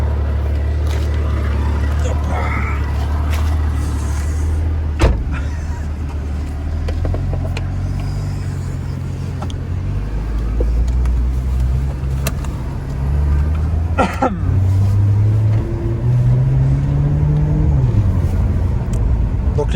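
A BMW M2 fitted with a fully non-original aftermarket exhaust drives along, its deep engine rumble steady and loud throughout, rising in pitch near the end, with people talking over it inside the car.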